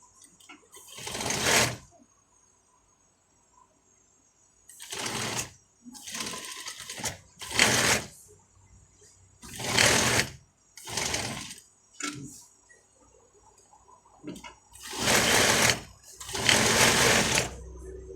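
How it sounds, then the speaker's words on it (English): A sewing machine stitches a bomber jacket in repeated close bursts of rapid mechanical whirring, separated by pauses, with someone talking softly in between. "You continue sewing from here."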